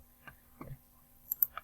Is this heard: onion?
no